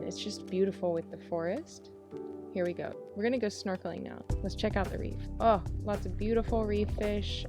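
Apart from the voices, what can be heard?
No everyday noise stands out behind the speech.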